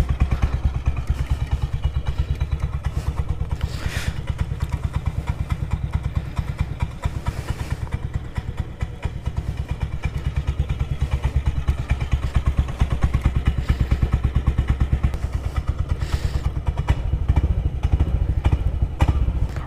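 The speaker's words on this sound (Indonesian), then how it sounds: "Terus suara dari motornya juga beda ya sama misalnya kalau Aerox standar ya, cuman ganti knalpot." A Yamaha Aerox bored up to 200cc with an aftermarket exhaust idles and runs steadily up close, a loud, lumpy low-pitched thrum with clattery mechanical ticks, swelling slightly near the end.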